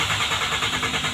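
Engine of a manual car converted to run on CNG gas, turning over and catching into a steady, slightly pulsing idle, close and loud with no voices.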